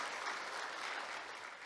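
Audience clapping welcomes a professor onto the stage for a lecture at a Korean peace festival academic event: dense, even applause from a seated crowd at moderate distance, sustained throughout and easing slightly at the end.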